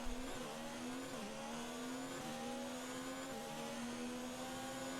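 Formula 1 race car engines in the F1 2019 video game drone at a steady high whine, with pitch shifting slightly through gear changes and a faint competing car nearby.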